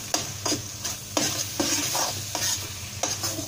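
Mushroom pepper fry with ground pepper tossed in a pan, a stirring spoon scraping in a regular rhythm of about eight strokes over a constant close sizzle, no speech.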